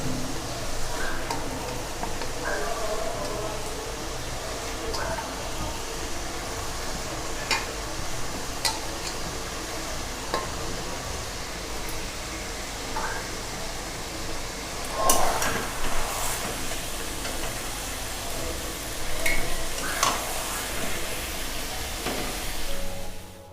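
Roughly a kilo of chicken frying and being stirred in a pan for achari chicken, a steady sizzle with occasional scraping stirs, close and alone without talk.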